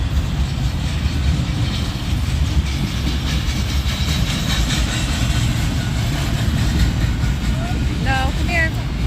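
A Kansas City Southern freight train carrying shipping containers rumbles past continuously, loud and close, with a steady roar and faint clatter, while people talk nearby.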